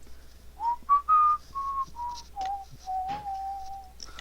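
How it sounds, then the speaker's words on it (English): A person whistles a short, clear tune of several drawn-out notes, ending on a long held note, in a quiet room. "I'm just gonna start whistling and just walk off."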